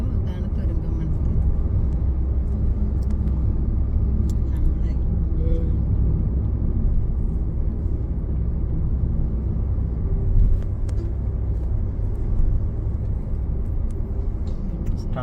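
A car drives toward the Kuthiran tunnel on the road through Kuthiran hill in Kerala, with a steady low engine and road rumble that stays continuous and fairly loud, plus a few faint higher clicks and knocks.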